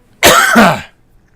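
A single cough bursts out loud and close, a rough two-part hack lasting about half a second before trailing into silence.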